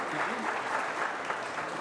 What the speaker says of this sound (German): Okay, kleiner Applaus, guter Zeitpunkt